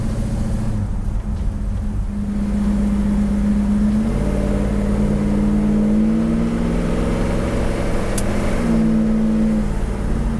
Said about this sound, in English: We're going about 55 miles an hour with no issues. This thing runs down the road nicely.